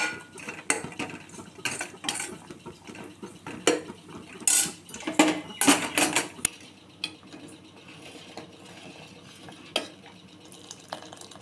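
Sago pearls stirred as they fry in a pan for sweet payasam, a spoon scraping and clinking against the metal in irregular bursts, busy at first and then thinning to softer sizzling and occasional knocks.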